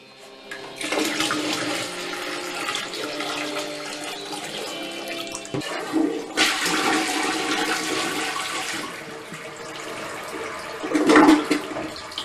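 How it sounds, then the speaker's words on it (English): A household toilet flushes with a loud rushing swirl of water that runs for about ten seconds, swelling midway and gurgling again near the end, with no talking over it. "I'm making the toilet so poop will go down the pipe."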